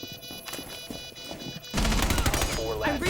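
Pistol gunfire in Rainbow Six Siege, a rapid burst of loud, dense shots that breaks out partway through after quieter game sounds and voices.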